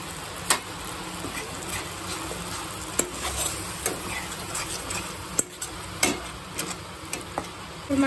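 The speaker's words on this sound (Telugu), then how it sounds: "ఇందులో మనం గ్రైండ్ చేసుకున్న పేస్ట్ వేసేద్దాం మొత్తం." Ground masala paste for butter chicken sizzles in a hot pan while a spoon stirs it, steady frying hiss broken by sharp, irregular scraping clicks of the utensil against the pan.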